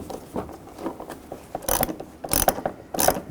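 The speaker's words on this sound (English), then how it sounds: "Just using a 19mm socket." Ratchet wrench with a 19mm socket clicking while adjusting the headlight mounting bolts on a 2006–2010 Volkswagen Jetta, several quick bursts of close mechanical clicks with brief pauses between.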